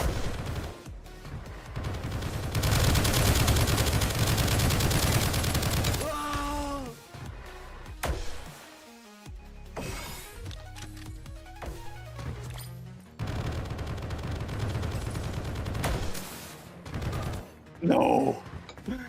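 A turret in a video game fires rapid bursts of loud, close gunfire, with crashing impacts and brief pauses between volleys while someone talks over the action.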